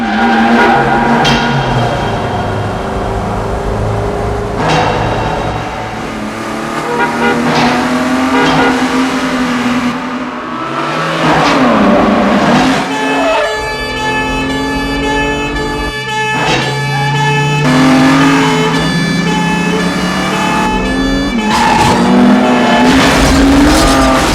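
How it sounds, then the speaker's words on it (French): Loud car engines rev and roar continuously while tires squeal and skid, a dense, sustained racing din with shifting pitch. "le son des pneus et des moteurs soit capturé en direct"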